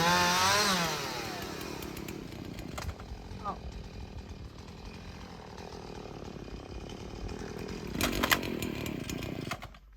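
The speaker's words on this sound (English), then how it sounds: "leaving Dan with the chainsaw" A chainsaw runs during a garden clear-up, a steady buzzing engine drone throughout with revving swells near the start and again toward the end, up close, with faint background sounds.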